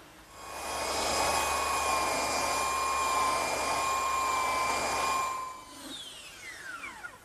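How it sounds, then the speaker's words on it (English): A small belt sander works the edges of a wooden chair table, giving a steady, loud whine that holds for about five seconds and then cuts off, leaving only faint rattles. "I like to use a slightly smaller belt sander to do these edges because it's easier to hold"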